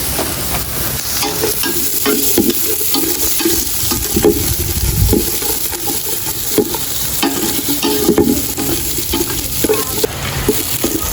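Garlic sizzles steadily in a hot pan while being stirred for a native chicken tinola, with scraping stir strokes over a continuous close fry and no talking.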